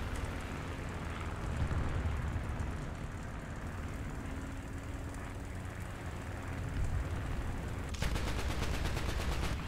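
Anti-aircraft guns from a rank 2 SPAA vehicle fire at swarms of biplanes in War Thunder, with dense, steady gunfire and engine rumble, ending in a faster rattling burst of shots.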